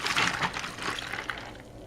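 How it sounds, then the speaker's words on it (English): Sweet tea poured over ice into a glass, a close splashing gurgle that starts strong, then trickles and tapers off as the glass fills, with no talking. "We are going to take the tea and carefully pour it into the thing."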